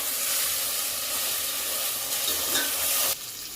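Ginger garlic paste frying in oil for chicken biryani, a bright steady sizzling hiss close up that drops off sharply near the end.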